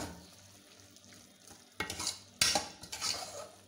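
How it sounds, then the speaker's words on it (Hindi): A chicken mixture for lasagna cooks in a pan with a soft sizzle, broken by a few sharp bursts of a spoon stirring and scraping against the metal, close and without talk. "अब आपने इसको अच्छे से मिक्स करना है"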